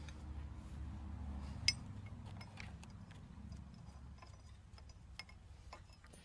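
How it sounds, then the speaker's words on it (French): A 12 mm wrench loosens small bolts on a Citroën Traction 11, with faint metallic ratcheting and clicks, a sharper clink or two, and low background hum. "J'enlève mes 3 petits boulons de clé de 12."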